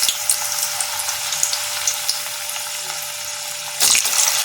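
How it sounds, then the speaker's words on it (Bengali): Washed, wiped pieces frying in hot oil in a home kitchen give a steady, loud, close sizzle, with a sharper burst of spitting near the end. "এবার আমি এই তেলের মধ্যেই ভাজবো"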